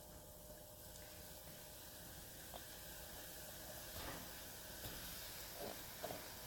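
Soft, steady hiss of caramel sauce made with Fireball whisky boiling and steaming in a pot, faint and even, with a few small pops and clinks.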